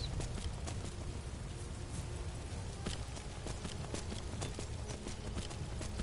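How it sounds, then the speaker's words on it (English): Skeletal horse hooves clip-clop steadily through the countryside in Skyrim, a continuous rhythmic walking gait heard alone, moderately close and fairly quiet over a soft ambient bed. "a peaceful ride through the country on a skeletal horse"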